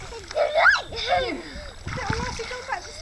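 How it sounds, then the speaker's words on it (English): Water splashes and sloshes close by while voices talk and exclaim over it, with choppy bursts of movement. "Lots of splashing."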